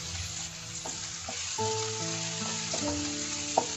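Chopped onion frying in oil with ginger, garlic and green chilies, a steady close sizzle with spatula stirring and light clinks, continuous and without talk.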